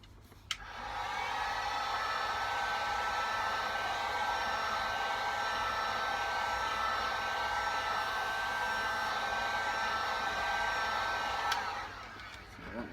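Heat gun blowing steadily on EVA foam while a sculpted muscle torso is shaped, a constant close airy whoosh running almost the full length before clicking off near the end.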